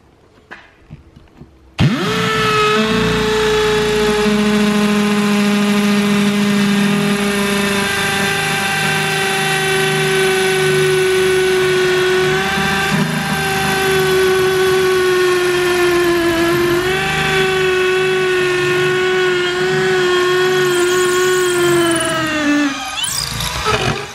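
A Bosch GSB 185-LI cordless drill, running a dull, well-used bit, bores through material with a loud, steady motor whine that starts abruptly, holds for about twenty seconds with slight pitch dips under load, then winds down.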